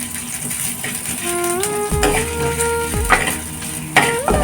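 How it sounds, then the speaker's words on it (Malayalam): Ginger and garlic sautéing with fenugreek in hot coconut oil, a constant close sizzle and frying hiss as a spoon scrapes and stirs the pan, with a few sharper clinks of metal. "ഉലുവ ഒന്ന് ചൂടായി തുടങ്ങുമ്പോൾ അതിലേക്ക് അരിഞ്ഞു വെച്ചിരിക്കുന്ന ഈ ഇഞ്ചിയും വെളുത്തുള്ളിയും കൂടി ഇട്ടൊന്ന് വഴറ്റിയെടുക്കാം"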